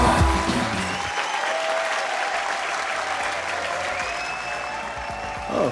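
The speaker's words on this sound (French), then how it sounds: "On peut l'applaudir, bravo!" An audience applauds a performer at a live show, a dense, steady wash of clapping that runs loud and unbroken for several seconds, with a few shouts and whistles mixed into the crowd.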